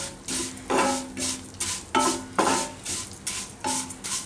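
Vermicelli roasting in ghee over a medium flame, stirred with a spoon in rhythmic scraping strokes roughly every half second over a light sizzle, close by with no talk.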